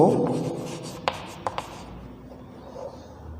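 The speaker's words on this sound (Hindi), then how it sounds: "तो इसमें लिखेंगे द रेशो" Chalk or pen scratching on a board during a genetics lesson, a few short strokes and taps heard close and fairly quiet, with a teacher's voice speaking at the start.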